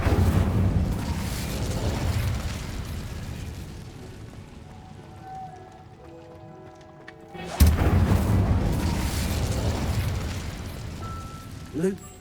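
An Incendio fire spell is cast in Hogwarts Legacy, and a loud, rumbling fiery burst fills the scene. The roar fades into a quieter stretch, then a second sharp blast hits, with speech mixed in.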